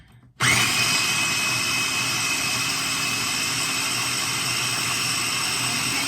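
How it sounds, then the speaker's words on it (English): A small kitchen blender blending cranberries for juice whirs to life after a brief quiet moment and runs at a steady, loud, high-pitched drone throughout. "I'm going to blend again."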